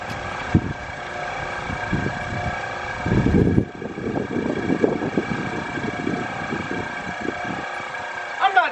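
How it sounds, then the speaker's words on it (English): An Eco Rinse machine's pump runs with a steady mechanical hum, moderately loud, while someone talks over it and there are occasional knocks and handling bumps. "And I'm just letting the pump run."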